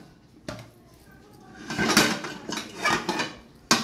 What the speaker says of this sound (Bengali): বাসনগুলো সব নামিয়ে তাকে রাখবো